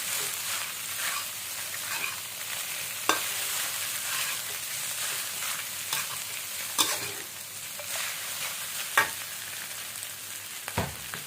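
Thai egg fried rice being stirred and fried in a pan, steady close sizzling with repeated scraping strokes of a utensil and a few sharp knocks against the pan.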